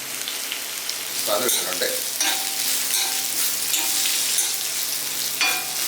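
Split green chilies frying in oil in a pan for a wild bitter gourd stir-fry, a steady loud sizzle with crackles and brief stirring scrapes, a voice speaking briefly over it.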